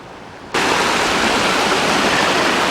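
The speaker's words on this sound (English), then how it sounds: "The creek goes all through the park." A creek rushes through a park canyon near Hot Springs, South Dakota, by a footbridge against the canyon walls; after a quiet half second the water comes in as a loud, steady, close rushing roar that fills the rest.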